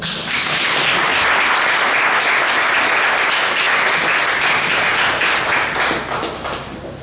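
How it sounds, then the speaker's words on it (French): An audience at a municipal investiture ceremony in Grand-Bourg breaks into loud, sustained applause that fills the room, steady throughout before tapering off at the end. "Vous pouvez applaudir Madame Coquin."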